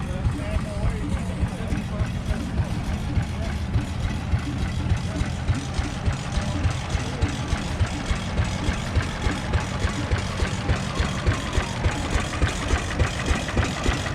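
A restored 6-horsepower International stationary engine runs at a steam show, firing in steady rhythmic pops close by, with people talking over it.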